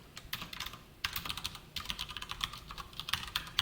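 Rapid clacking on a computer keyboard as C code is typed, with bursts of close, crisp keystrokes separated by brief pauses and no one speaking.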